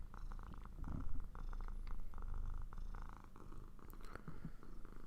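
A contented cat purrs steadily on a person's lap, a continuous low rumbling throb that holds close and even throughout.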